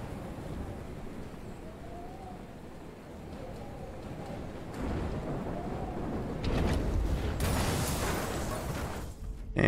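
Rain and thunder in the Life Is Strange video game, a soft steady patter with low rumbles that swell louder toward the end, heard alone without talk.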